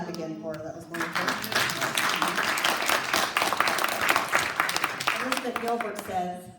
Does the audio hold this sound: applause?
yes